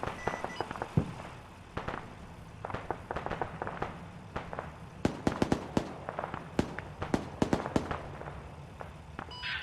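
A BMP vehicle is destroyed in a desert military video game, heard as a scattered series of sharp, fairly distant bangs and cracks over a faint background.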